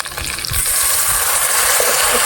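Water is poured into a pan of frying chopped tomato and ginger-garlic masala, starting with a brief sizzle and then a loud, steady gushing hiss of liquid hitting the hot pan, close and continuous.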